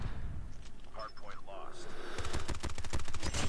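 Rapid gunfire from the CBR gun in a video game builds into a fast, loud stream of shots, with a voice talking over it.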